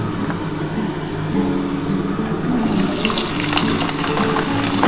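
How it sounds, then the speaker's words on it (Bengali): Hot mustard oil in a kadai gives a steady low hiss that swells into a brighter, louder sizzle about halfway through as potatoes go in to fry. "এই তেলটা দেখো আমার গরম হয়ে গেছে। আমি এবার কিন্তু আলুটা দিয়ে দিচ্ছি।"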